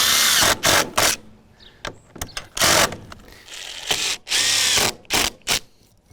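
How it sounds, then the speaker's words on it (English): A power drill drives screws through cedar boards into existing pressure treated lumber on a shed roof, sounding as several loud, close bursts of whirring with short pauses and ratcheting clicks between them. "I'm just screwing right into the existing pressure treated lumber."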